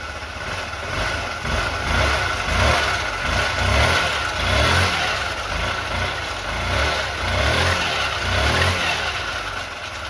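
A Honda Elite 80 two-stroke scooter engine running after being jump-started, a close, steady buzzing putter with a rhythmic pulsing throb that swells and eases every second or so, no talking.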